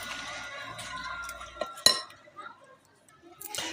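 A spoon stirs yogurt and mayonnaise in a bowl, giving soft scraping and a few clinks against the bowl, with one sharper knock near the middle. A quiet voice talks faintly underneath.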